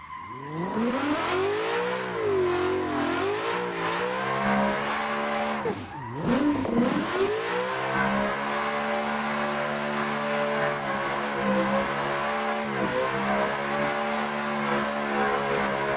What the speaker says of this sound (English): That was such a long drift.